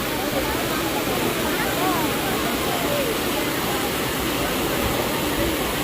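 Strong rushing water of a deep waterfall where two women were swept under, a steady loud broadband roar filling the whole clip, with people's voices faintly mixed in beneath it.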